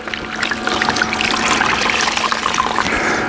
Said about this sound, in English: So I'm gonna go dump this water.